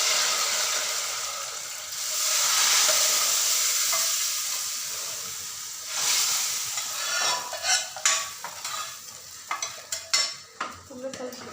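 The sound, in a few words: tempering added to eggplant sambar, sizzling and stirring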